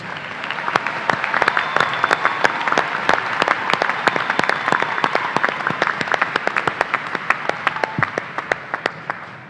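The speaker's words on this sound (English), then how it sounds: "Let's give our master students a round of applause." A commencement audience applauds master's graduates, with close, individual claps standing out sharply against a broad wash of crowd clapping that continues steadily throughout.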